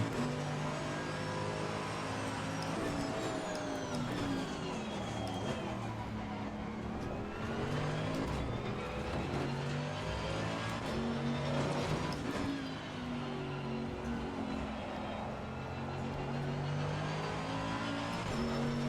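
An AMG race car in Assetto Corsa Competizione roars under heavy throttle with low traction control, its engine note climbing and falling through gear changes as the tires squeal, loud and continuous throughout.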